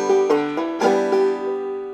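Clawhammer banjo in open G tuning plays the first measure of a song, a few bright plucked notes with ringing open strings, close and clear, no voices.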